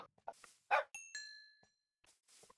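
Dog barking in Minecraft, a few short yaps scattered among brief clicks and a ringing chime, fairly close and clear against otherwise quiet moments.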